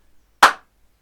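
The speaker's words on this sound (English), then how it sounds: "Let's do all the clap patterns together so far." A single sharp clap from a class of Year 5 and 6 pupils working through clap patterns in a music lesson, one crisp burst alone in quiet.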